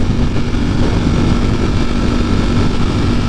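Harley-Davidson motorcycles roll past with a dense, steady engine rumble and a low droning hum, loud and continuous from start to finish with no talk over it.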